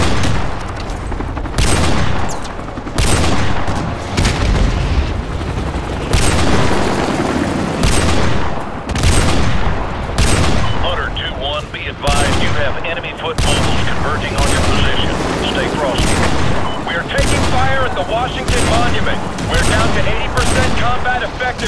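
Heavy combat in Call of Duty: Modern Warfare 2 Remastered: sustained rifle and machine-gun fire punctuated by repeated loud explosions and booms, densely layered and continuous throughout, with radio chatter beneath.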